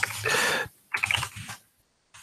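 Keys on a computer keyboard that double-types the letter E clatter in two quick bursts of rapid strokes, close and fairly loud, then stop and start again briefly.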